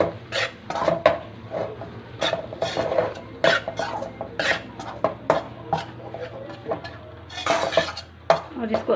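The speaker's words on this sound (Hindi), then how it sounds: "घी हमारा गर्म हो चुका है, इसके अंदर हम बेसन को डालेंगे।" Besan goes into hot ghee in a pan for barfi and is stirred, producing a series of irregular metallic clinks and scrapes of a utensil against the pan, moderately close with faint sizzling beneath.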